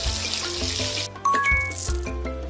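Cartoon water splashes and rinses over a face in a Hawaii-themed makeover video game, a loud gushing burst followed by bright tinkling game chimes, with no voices.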